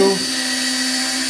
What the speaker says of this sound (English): I want to drill a pilot hole